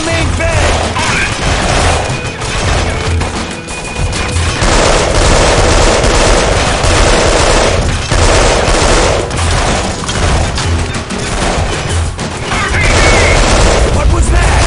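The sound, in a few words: gunfire in video game Delta Force Black Hawk Down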